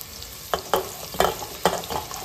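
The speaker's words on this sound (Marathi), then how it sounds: "कांदा परतायला टाकलाय" Onion for chicken biryani sizzles in a pan, with a spoon or spatula scraping and stirring in four or five distinct strokes over a steady low frying hiss, close and alone.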